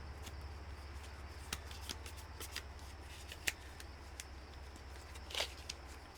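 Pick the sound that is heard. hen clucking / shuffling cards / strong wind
shuffling cards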